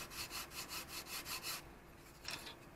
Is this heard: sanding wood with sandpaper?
yes